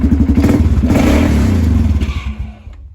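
A Polaris Sportsman 570 ATV engine chugs and revs loudly up close with a check engine light on, then sputters, slows and dies out into near silence.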